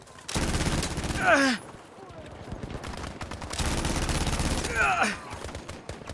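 A British machine gun in the Battlefield V video game fires two sustained automatic bursts, each a dense, loud rattle of rapid shots with whistling, ringing tails, separated by a short lull of quieter battlefield noise.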